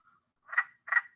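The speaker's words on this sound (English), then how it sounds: "So that's an individual frog." A single frog calling from a vernal pool, two quick chuckling, quack-like croaks in close succession after a faint short note, close and clear against near silence.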